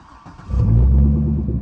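A Chevrolet Corvette C6 with a 6.0 V8 starts up: a brief starter whir, then a loud, deep engine catch that settles into a steady, close, rumbling idle.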